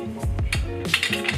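Metal butter knives clink against each other while slicing down the middle of a potato, giving a few sharp, close metallic taps and scrapes in quick succession, with no talking.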